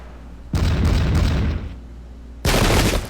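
Musket volleys in the game Pike and Shot: Campaigns, heard as two loud crackling bursts of massed gunfire, the first lasting about a second and the second shorter, with a quiet gap between them.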